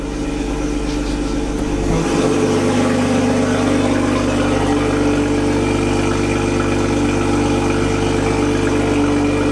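A Toyota Mk5 Supra with a cat-less exhaust idles close by, a loud, steady, raspy low rumble that holds even throughout with no voices.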